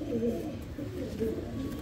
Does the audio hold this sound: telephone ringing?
no